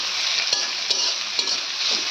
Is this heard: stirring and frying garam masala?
yes